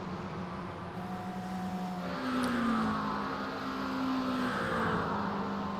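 A race car engine, a GTP prototype that may be the white Porsche in the iRacing IMSA endurance round at Watkins Glen, drones steadily and rises in pitch as it closes in and passes, sustained and fairly loud with no talk.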